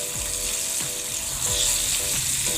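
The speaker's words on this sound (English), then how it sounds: "here it is, the saltfish frying" Floured saltfish deep frying in hot oil, giving a steady, close hiss and crackle with a faint rhythmic clicking underneath.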